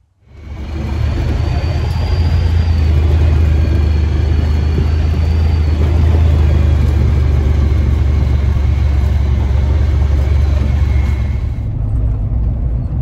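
A truck engine rumbles loudly and steadily from close by on a drive home after a morning turkey hunt, starting up after a brief quiet moment and holding a deep drone throughout.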